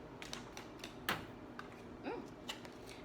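Tarot cards are shuffled close up in a quiet room, making soft, irregular ticking and riffling clicks with a few sharper snaps.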